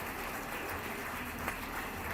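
Sustained applause from a large audience at a law moot court competition, a steady wash of clapping at moderate volume with no break.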